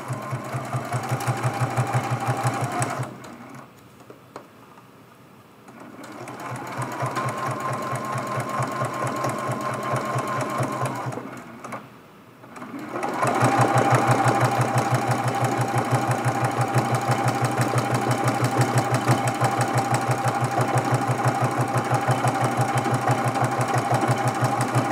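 A sewing machine stitches an appliqué Christmas tree ornament in steady whirring runs, pausing twice briefly before resuming with a higher steady hum, close and moderately loud with no talk.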